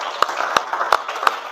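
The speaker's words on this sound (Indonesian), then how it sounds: "Tepuk tangan untuk Ridho, bagus sekali jawabannya." Scattered hand claps in a classroom for a student named Ridho, a few sharp separate claps spaced about a third of a second apart over a murmur of voices, close and brief.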